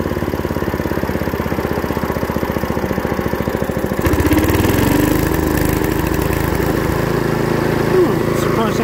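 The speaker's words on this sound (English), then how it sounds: "Let's see if it idles." A Hayter 21 Osprey roughcut orchard mower with a 5HP Briggs engine idles close by with a loud, steady rhythmic chug that shifts to a rougher, fuller running note partway through.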